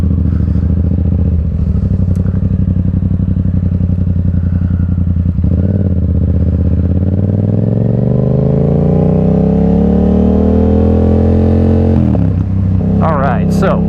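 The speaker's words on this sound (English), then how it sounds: "This bike sounds so good." A Yamaha XSR700 motorcycle engine rumbles loud and close while being ridden, the pitch climbing steadily as it accelerates through the gears on an evening ride in Middle Tennessee.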